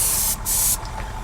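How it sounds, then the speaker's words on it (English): Two quick hissing bursts from a spray bottle misting water onto a 1/48-scale HobbyBoss F-14D Super Tomcat model, the second longer than the first, close and sharp against a quiet room. "spray some more water on it"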